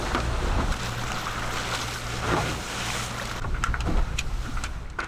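A sailing yacht motoring under engine power off the Greek coast toward Tilos, its steady low engine drone blending with wind and the wash of water against the hull throughout.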